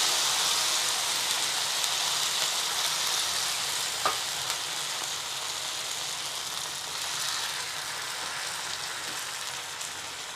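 Dosa batter frying in oil on a non-stick pan gives a steady, dense hiss and sizzle, close and even, with one faint clink partway through and no talk.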